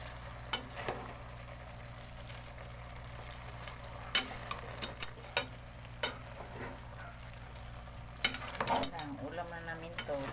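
Cabbage being sautéed in a pot, with soft stirring scrapes and clinks of a utensil against the metal over a faint steady sizzle, the close, irregular knocks coming every second or two.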